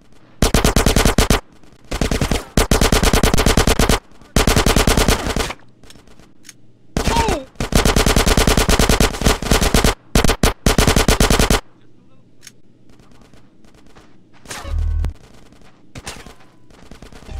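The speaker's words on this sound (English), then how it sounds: "Get some suppressing fire in there!" Gunfire in the video game GTA San Andreas comes as loud, sustained automatic bursts of machine-gun fire in repeated long volleys, then sparser single shots and a thud as the shooting dies down.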